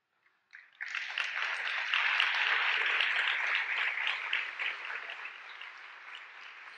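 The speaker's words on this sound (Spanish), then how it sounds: "Y las mujeres aplauden" Applause from women in the audience at a Spanish-language talk, a dense, steady wash of many hands clapping that swells in quickly, holds strong, then slowly thins near the end, with no voices over it.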